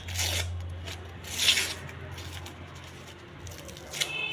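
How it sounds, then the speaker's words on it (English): Purple colour paper being torn in several short, rasping rips, close by and fairly quiet, with pauses between pieces. "I will tear it into pieces."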